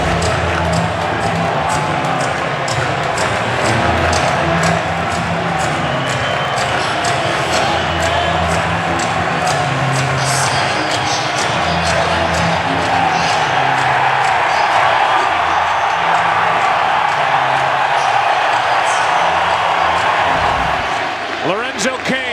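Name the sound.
baseball stadium crowd cheering for Matt Harvey at the World Series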